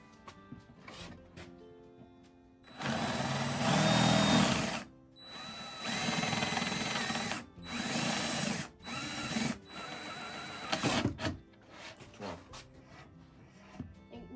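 A power drill whirs in several bursts, revving up and boring into the ends of wood pieces for bat houses, with short pauses between runs and a voice briefly in the background.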